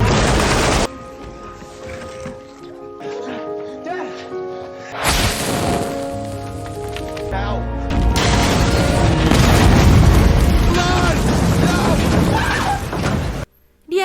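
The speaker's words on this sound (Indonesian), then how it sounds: "Sampai akhirnya bomnya meledak." A bomb explodes in the film Arcadian, with heavy booming blasts and crashing debris over a dense score, and a voice narrating over the noise.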